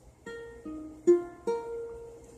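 Several guitar chord strums ring out one after another, each note sustaining clearly and close, with a brief pause between strums.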